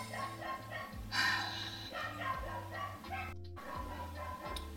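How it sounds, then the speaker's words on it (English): A dog barks repeatedly in the background, a series of short yaps in uneven bursts, fairly faint under a steady humming tone and other low indoor sounds. "Just realized I can't start recording until the dog shuts up."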